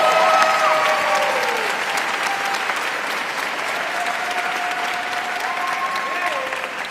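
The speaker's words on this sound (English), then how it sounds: "Round of applause for the donors." Audience applause at a university commencement ceremony, a steady sustained clapping from a large crowd that holds evenly throughout, with a few faint tonal sounds drifting over it.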